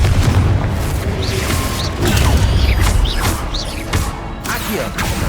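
Spellcasting combat in Hogwarts Legacy, including the Confringo blasting spell: a dense run of magical whooshes, booms and crashing impacts in quick succession over a busy, loud game soundscape.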